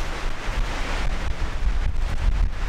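Strong gusting wind buffets the microphone outdoors at a campsite in Snowdonia, a loud, continuous low rumble with rushing noise and no voices.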